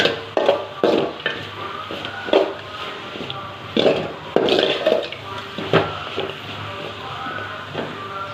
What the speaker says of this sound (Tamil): தேங்காய் சேர்த்துட்டு லைட்டாக கிளறிக்கலாம். அதோட பச்சை வாசனை போகிற அளவுக்கு